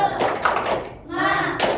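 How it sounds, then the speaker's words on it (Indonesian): Classroom students doing the Indonesian tepuk semangat rhythmic clap during a micro-teaching lesson, quick bursts of group hand claps close by, mixed with shouted chanting voices. "tepuk semangat dulu ya"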